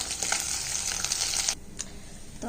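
Fish frying in a pan gives a loud, steady sizzle of hot oil for about one and a half seconds, then drops away to a quieter crackle with a few faint pops near the end.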